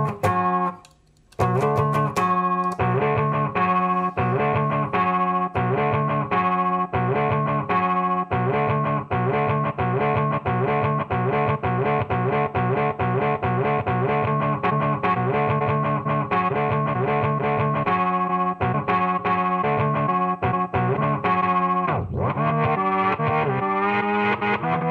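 An effects pedal chops a recorded musical phrase into replayed chunks, producing a steady, dense stutter of looping tones with distortion and chorus-like shimmer that runs loud and continuous, with one brief dropout near the start.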